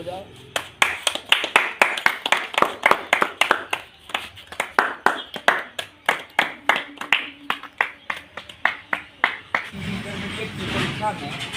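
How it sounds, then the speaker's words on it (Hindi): People at a coaching centre event clap in a steady rhythm of sharp, fairly close claps that keep going for about ten seconds. The clapping then breaks into looser applause, and voices can be heard underneath. "ताली बजाओ"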